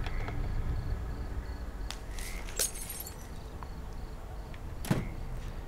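Glass shatters twice in The Cat Lady, sharp crashes a couple of seconds apart over a low, steady game hum.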